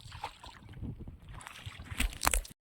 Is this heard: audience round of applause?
no